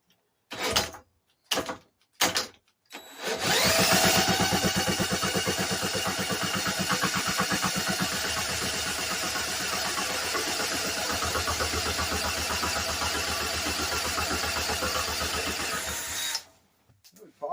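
A vintage Briggs and Stratton small engine is pulled several times in short bursts, then fires and runs loudly and steadily for about twelve seconds before dying out.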